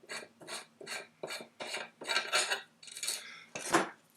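A flash hider being unscrewed from an AR-15 barrel, making a series of close, rhythmic scraping and rasping metal-on-metal strokes with small clinks.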